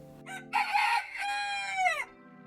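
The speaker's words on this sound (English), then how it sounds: "When did we last hear a cock crow or wake up to the melodies of birds?" A rooster crows once on a farm, a clear, loud cock-a-doodle-doo of about two seconds with rising and falling calls, heard alone without speech.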